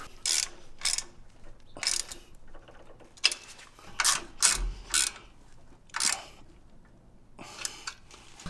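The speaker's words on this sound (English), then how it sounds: "you're going to need a 5/16 inch Allen bit or an 8 millimeter bit, either one works, and a 9/16 inch wrench to tighten up these bolts" A ratcheting wrench with an Allen bit tightening bolts on a 2-inch lift kit for a Jeep JL Wrangler, in short bursts of loud close ratchet clicking separated by brief pauses.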